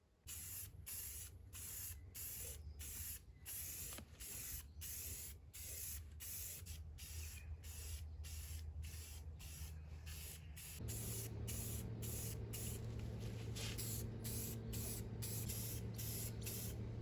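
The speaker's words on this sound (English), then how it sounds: "And now I'm going to give it a few coats of this Rust-Oleum Gloss Clear." Rust-Oleum Gloss Clear coat hisses from an aerosol spray can onto an RC boat hull in repeated short bursts and longer sprays, close and steady, with no talking.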